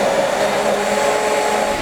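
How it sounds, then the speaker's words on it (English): Immersion blender whirring steadily through cream of asparagus soup, a loud continuous motor hum with a slightly rough, aerated churn, running alone without pause. "when you're using one of these immersion blenders, they're not just good for pureeing, they actually are very good for aerating and lightening the soup"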